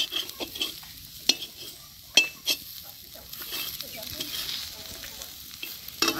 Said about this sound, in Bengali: এখন আমি একটা ডিম দিয়ে দিব ভাজির মধ্যে।